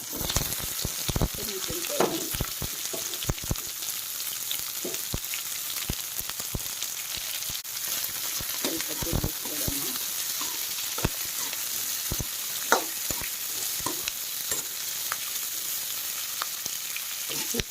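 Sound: onion and curry leaves frying with mustard seeds and cumin

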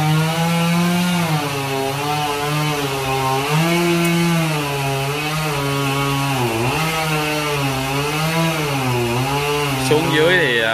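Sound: chainsaw sawing a large Ba Dau tree trunk

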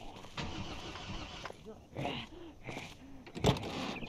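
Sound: car engine starting in video game Project Zomboid

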